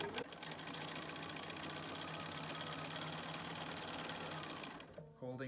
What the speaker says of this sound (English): And then I will just sew.